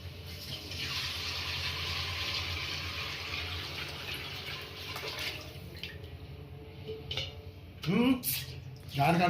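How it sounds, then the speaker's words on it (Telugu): Measured water poured into a large dum biryani pot at a biryani shop, a steady gushing pour running for several seconds before tapering off, followed by brief clanks and voices. "మనం కొలుచుకున్న వాటర్ తీసుకొచ్చి చేసుకోవాలండి"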